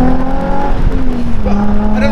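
A Nissan 350Z with a new loud exhaust revs and drives, its engine note rising and falling in a strong, close drone while a person talks over it.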